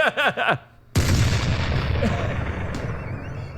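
A cannon sound effect played on a podcast: a deep, heavy boom bursts in suddenly after a moment of silence and rumbles away for a few seconds, loud and close. Brief speech comes just before it.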